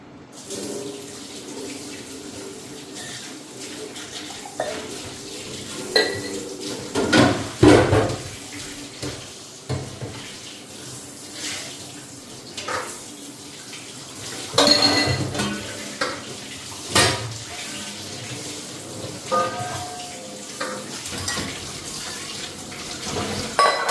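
A rice pot and a wok are washed under a running tap, with water splashing steadily and metal pans knocking and scraping in repeated loud clanks throughout, close by and without talk.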